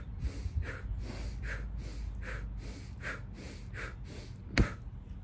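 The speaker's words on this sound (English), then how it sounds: "it's a full body fire breath" Rapid fire breathing done lying flat on the back, drawing in through the nose and pushing out through the mouth, with about eight quick, even breath cycles and a sharper burst near the end, alone and close.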